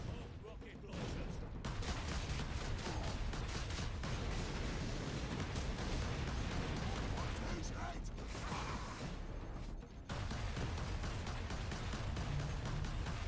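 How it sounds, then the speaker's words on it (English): Rocket launchers firing in the Space Marine video game, amid a constant din of mechanical clatter, gunfire and explosions with brief breaks, while someone speaks over the battle. "Rocket launchers."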